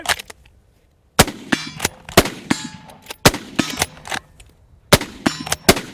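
Rapid rifle fire from a bolt-action Mauser and a rival rifle cracks out loud and close, with shots in quick irregular succession and metallic clanks of the bolts cycling between them.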